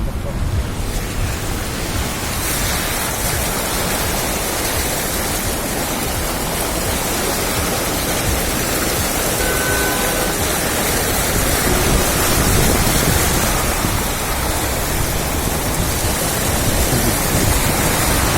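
Syr Darya floodwater gushing over and overflowing concrete irrigation flumes near Shymkent: loud, continuous, broadband roar of rushing water, steady throughout and close by.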